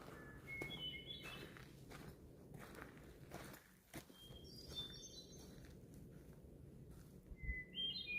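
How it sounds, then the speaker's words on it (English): Several birds chirp and whistle in short, scattered phrases in a Maine mountain forest, faint and at a distance, with footsteps crunching close by. "What the hell is that bird?"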